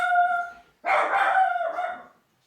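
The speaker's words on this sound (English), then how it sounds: "That's the dog." A dog lets out a drawn-out, howling bark in two long bursts separated by a short gap, fairly close and heard alone with no talking over it.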